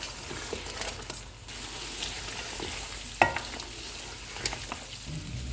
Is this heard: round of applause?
no